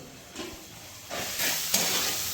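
Tomato paste going into sizzling, well-fried spices in a pan for a Bengali-style ritha fish curry; a close hiss that swells louder as the paste hits the hot oil and then stays strong.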